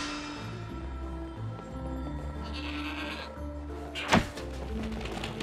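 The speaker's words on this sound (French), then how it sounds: "Quelle chèvre hors du commun !" A goat bleats once in the snowy Trine 4: The Nightmare Prince game world, a sharp, wavering cry that rises over steady game music and ambience.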